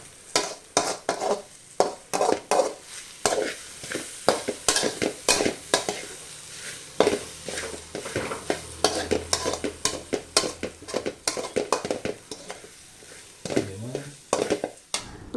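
A spoon stirs a semiya sauce mixture in a pan on the stove, scraping and clinking in a steady, busy rhythm with a soft sizzle underneath, close and fairly loud with no talking.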